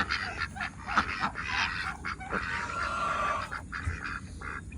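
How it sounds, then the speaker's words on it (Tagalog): Pekin ducks in a backyard flock quack and honk in a dense, overlapping chorus, loud and close, with calls layered continuously throughout. "Ito yung mga bitik natin. ang Mga peking duck."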